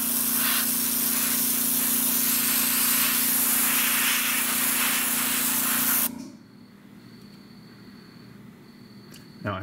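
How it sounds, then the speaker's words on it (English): Continuous loud hiss of an airbrush spraying Badger Stynylrez primer paint, held steadily for about six seconds before cutting off to quiet room tone with a faint whine. "I feel really dirty spraying this much paint"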